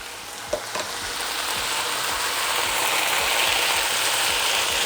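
Sugar caramelizes in a frying pan with zucchini fritter mix, giving a steady loud sizzle with faint scraping and clicks of stirring near the start.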